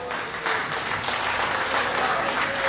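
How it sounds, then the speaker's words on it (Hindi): A meetup audience claps to welcome a speaker on stage, steady, full applause from a gathered crowd filling the whole short moment without any talking. "तो आप सबकी तालियों में जनाब खालिद हुसैन साहब"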